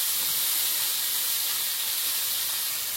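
Dried red chilli, cumin seeds and tomato sizzle in hot oil as leafy greens go into the pan, a steady loud hiss with no breaks and no voices.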